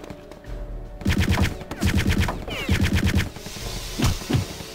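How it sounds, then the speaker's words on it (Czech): Rapid automatic gunfire from the Return to Castle Wolfenstein video game, loud and close, in several quick bursts of evenly spaced shots, ending with a couple of heavier single shots and no talk over it. "Někdo po mně střílí."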